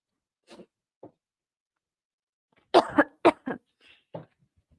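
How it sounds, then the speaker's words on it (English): A few isolated coughs from one person during a conference presentation, two small ones first, then a louder cluster of three or four coughs in quiet surroundings. "to not make you feel bad about me coughing"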